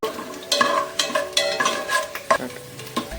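Peanuts frying in a pan as they turn reddish, stirred in a steady rhythm with repeated scraping strokes over a continuous close sizzle; no voices.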